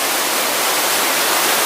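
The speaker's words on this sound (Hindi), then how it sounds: "ये स्टेप बाय स्टेप सीढ़ियों दर सीढ़ियों करके बहुत नीचे तक पानी बह रहा है।" Water pours down a long stepped cascade in the forested hills of Netarhat, a steady broadband rush that stays even and unbroken throughout, close and fairly loud with no voices.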